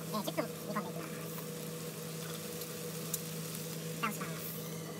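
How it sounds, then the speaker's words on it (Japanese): A chickpea and bacon stew simmers in a pan, with soft bubbling and light sizzling pops over a low, steady background hum. It stays fairly quiet and close throughout, with no voices. "このふつふつと沸騰している状態を保ちながら、"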